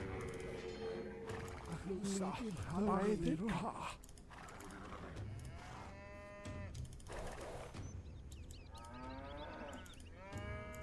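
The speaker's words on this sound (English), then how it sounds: "let's send these cows back home" Cattle moo repeatedly amid game-style sound effects and background music in a real-time strategy game set in West Africa, the lowing calls rising and falling over several seconds.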